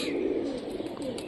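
Rajshahi Giribaz pigeon, a mushki with feathered feet, cooing in a low steady murmur close by, with faint background chatter.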